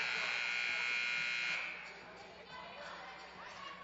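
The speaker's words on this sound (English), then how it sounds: "As the first buzzer has rung for the 30-second timeout" Timeout buzzer at a women's college basketball game against Virginia Wesleyan, a steady loud electronic buzz holding for about a second and a half, then cutting off into gym crowd murmur.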